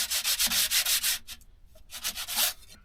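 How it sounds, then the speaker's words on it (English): Sandpaper rubbed by hand over scrap wood for a homemade guitar build, in quick rhythmic back-and-forth strokes. A dense burst of strokes is followed by a brief pause and then a second shorter run, close and fairly loud, with no talk. "first you've got to get a bit of sandpaper and just smooth it off."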